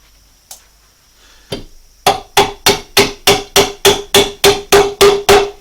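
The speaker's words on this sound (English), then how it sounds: "you just tap it in with the hammer" A hammer taps a bolt into a wooden cope-and-drag flask for metal casting: after a few scattered knocks, a fast, even series of about a dozen sharp, close strikes rings out.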